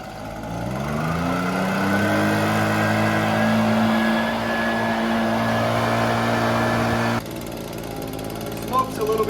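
A smoking carbureted engine burning a little too much oil idles close by with a steady, rough drone for several seconds, then drops to a lower, quieter note near the end.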